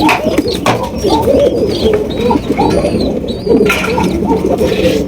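Black Mondain pigeons coo continuously in low, rolling calls close by, with a few faint high chirps from other birds in the background.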